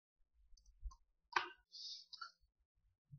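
A single soft computer mouse right-click sounds close and quiet in an almost silent room, with a few faint ticks around it and no talking.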